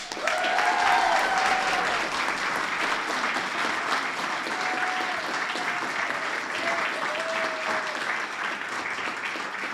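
Sustained applause from an audience at a school board meeting honoring a classified employee of the year, dense steady clapping lasting throughout, with faint voices or cheers briefly rising near the start.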